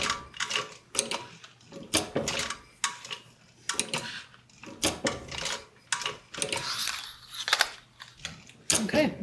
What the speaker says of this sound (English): I'm just going to hand crank to make sure that I get a nice stitch around these curves